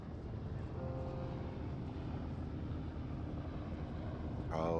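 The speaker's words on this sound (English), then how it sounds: "There's the helicopter." Helicopter in the video game Firewatch, a steady low rotor and engine drone holding at even loudness throughout, swelling slightly near the end with a brighter whoosh.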